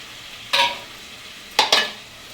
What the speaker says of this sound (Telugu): ఇప్పుడు ఇలా కడుక్కున్నది అయితే ఇందులో వేసేసుకుందాం